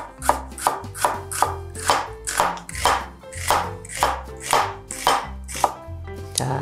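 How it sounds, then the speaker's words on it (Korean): Half an onion thinly sliced on a cutting board, a rapid, regular series of close knife thuds, about two per second, with no voices over them. "양파 반 개는 얇게 채 썰어 주세요."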